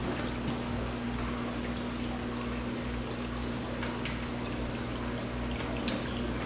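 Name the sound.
Marineland Penguin Pro 375 aquarium filter self-priming with water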